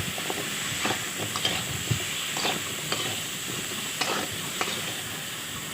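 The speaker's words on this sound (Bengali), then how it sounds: "এরপরে ভালোভাবে নেড়ে নিলাম।" Amra (hog plum) chutney being stirred in a pan with turmeric and salt: soft scraping strokes at an irregular rhythm over a faint steady hiss, quiet and close, with no talk.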